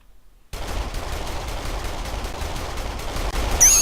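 An enemy fires a gun in a video game, a run of quick sharp bursts of gunfire over a dense rumbling bed, loud and continuous after a moment of silence, with a brief whistling tone at the very end.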